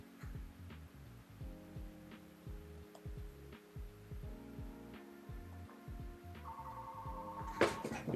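A phone rings during a live market-trading stream, its repeated electronic tone pulses sounding at a steady rhythm over a low hum, with a louder burst near the end.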